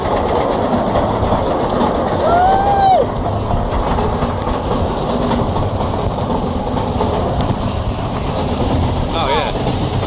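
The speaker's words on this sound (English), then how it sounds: "Look at the other train." A roller coaster train at PortAventura in Spain rumbles steadily along its track, loud and close, with a continuous rolling roar throughout and brief squealing tones. People talk over it.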